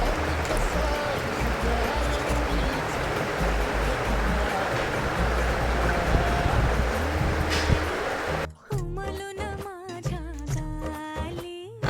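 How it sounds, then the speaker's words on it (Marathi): Kokum syrup is poured into ice candy moulds in a home kitchen, a continuous splashing, liquid rush for several seconds before music takes over. "आता हे मी मोल्डमध्ये ओतून घेते."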